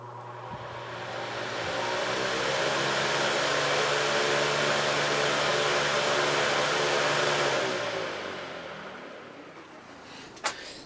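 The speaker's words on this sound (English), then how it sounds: "So let's see how much power it draws going up to high speed." A Patton 18-inch high velocity fan, model U2-0018, with slightly misaligned blades, spins up to high speed. Its loud broadband whoosh swells and holds steady, then eases off, ending with a sharp click.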